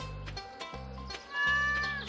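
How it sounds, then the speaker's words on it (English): A cat meows in the farming video game Stardew Valley, several short tonal mews spaced across a couple of seconds over quiet game music. "Kitty!"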